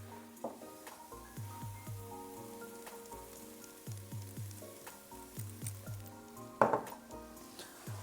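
Onions sizzle gently in a pan, a soft continuous frying crackle broken by repeated knocks of a utensil and one sharper clatter near the end.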